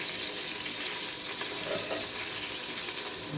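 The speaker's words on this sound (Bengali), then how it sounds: "পানি দিয়ে এই মশলাটা কষিয়ে নেব" Spice paste of coriander powder, chilli, turmeric and salt with a little water fries and sizzles steadily in a pan for pumpkin and fish curry, with soft stirring scrapes throughout and no talk.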